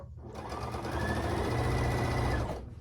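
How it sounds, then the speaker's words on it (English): A sewing machine stitching quilt squares in a chain, its needle running in a fast, even mechanical hum that starts up, holds steady for about two seconds, then stops. "Now I'm going to sew that 3rd piece on there and chain piece them."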